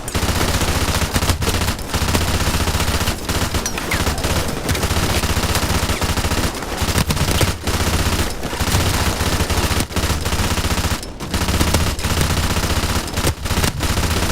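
Sustained machine-gun fire in the Call of Duty: Modern Warfare Remastered campaign, dense and loud throughout with brief pauses between bursts, layered over constant battle noise.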